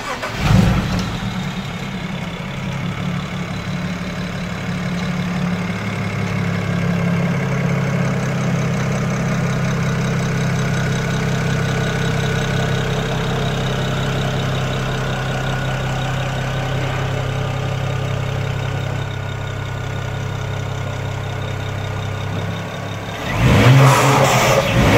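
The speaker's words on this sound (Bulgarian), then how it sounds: "Дали ще мога да запалим автомобил да чуем гласа на този звяр?" A tuned BMW E91 335i with the N54B30 engine, running an E50 ethanol mix and making over 500 at the wheels, starts up close and loud, settles into a steady, deep idle, then rises in a sharp rev at the end.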